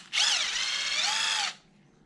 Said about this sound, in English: I'm going to go ahead and pop this one apart, which is just 2 bolts